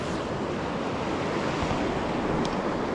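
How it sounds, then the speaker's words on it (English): Fast water rushing along a stretch of the River Tay, a loud, steady broadband wash with wind buffeting the microphone, continuous and unbroken with no voices. "because this is really fast water on this stretch"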